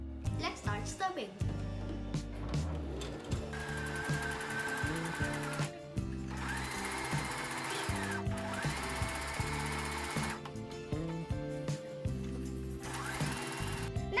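A sewing machine stitches fabric for a fox-shaped bag in several whirring runs of a few seconds each, under a bed of background music.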